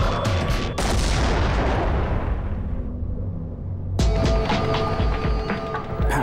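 A wire-guided rocket missile firing with a sharp blast and roaring rush that fades, followed by a second loud impact burst and rumbling aftermath.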